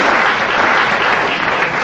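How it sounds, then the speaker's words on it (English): An audience applauds an introduction of Congressman Ron Paul at an event in Texas, a dense, loud, continuous clapping that fills the whole moment without pause. "And I actually got applause for an introduction."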